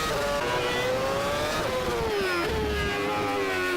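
A Formula 1 car from the 2010 season in the rFactor racing game howls at high revs, its steady engine whine rising with acceleration and dropping on downshifts into the first corner, loud and continuous with no talk.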